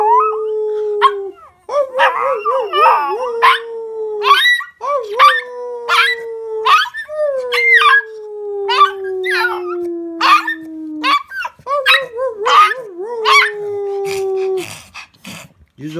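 A Chihuahua howls in long, wavering, sung notes, several drawn-out howls one after another, close and loud, with a person's voice faintly mixed in between.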